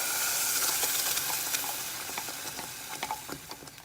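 Steady sizzling of ground paste frying in a pan for onion salna, with scattered crackles and pops, a continuous hiss that eases slightly toward the end, no talking.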